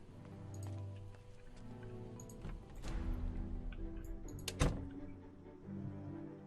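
Rain in the Project Zomboid video game, a soft continuous patter with a few dull thunks and a sharper knock partway through, no talking.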